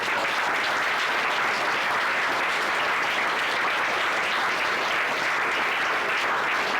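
Steady, dense applause from an audience at an arithmetic class, filling the whole stretch at an even level with no clear talk over it.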